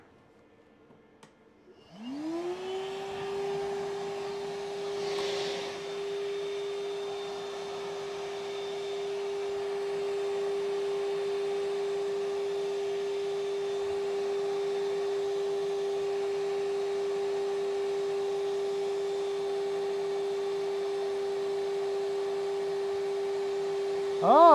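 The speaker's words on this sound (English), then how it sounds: "Okay, got attachment for the vacuum." Steady mechanical whine with a constant pitch runs continuously and fairly loud from a power drill boring into a wall with a vacuum attachment, during a watercooling loop install; a brief thump near the start and a sharp noise at the very end.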